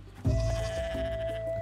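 Goats bleat in the farming video game Roots of Pacha, one wavering, nasal call held for over a second, moderately loud and clear.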